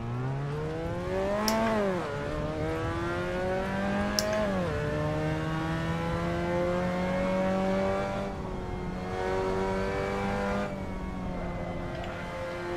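Engine of a Mazda MX-5 race car in the racing game Assetto Corsa Competizione: a steady, droning mid-pitched engine revs up and down through several gear changes, loud and close, with no voices.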